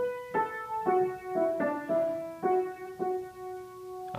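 Piano intro of a song, a short series of single melody notes struck at an unhurried, slightly uneven pace, soft and close, with each note left to ring.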